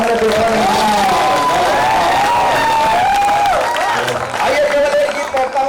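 An audience claps and cheers steadily throughout at a live patriotic poetry recital, a dense wash of applause under loud, continuous talk from a speaker.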